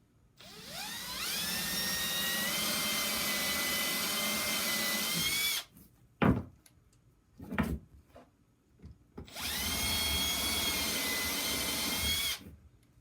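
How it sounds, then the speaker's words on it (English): A drill bores countersink holes into a wooden epoxy mold base for a charcuterie board, two long steady whining runs separated by short bursts and knocks, loud and close with no talk. "We use a countersink. You don't have to, but we like using them."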